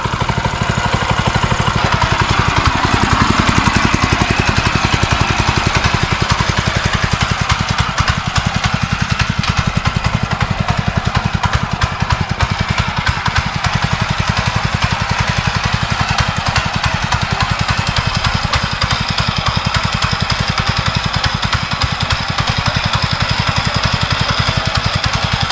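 A power tiller's engine runs continuously, a steady, close mechanical drone with a fast rhythmic chug that holds without pause, with no voices.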